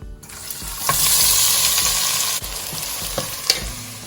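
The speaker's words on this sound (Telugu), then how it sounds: "సో ఉల్లిపాయలు కొంచెం వేగనిద్దాం" Onions fry with whole spices in a pan, a close, strong sizzle that swells after they go in, with a few sharp scrapes and clinks of a stirring spoon and no talking.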